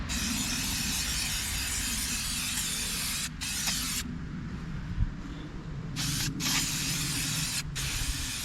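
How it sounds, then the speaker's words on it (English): Spray Away interior detailer misted from a trigger bottle onto a lawn tractor's plastics: a series of loud, close hissing sprays separated by brief pauses, with no talk. "I'm gonna try this spray away interior detailer"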